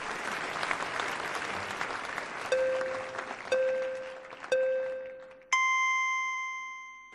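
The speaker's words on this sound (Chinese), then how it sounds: "掌声啊啊，还都是看着我师傅的面子上" Applause from a comedy crosstalk stage audience claps densely and fades out, then a few clear bell-like tones ring and decay one after another.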